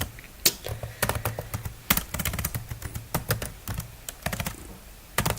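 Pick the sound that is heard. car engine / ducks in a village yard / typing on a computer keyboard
typing on a computer keyboard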